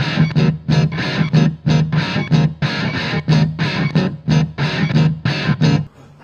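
Electric guitar run through a distortion effect, playing a chopped, rhythmic riff of loud, saturated chords with short gaps between strums, close and alone.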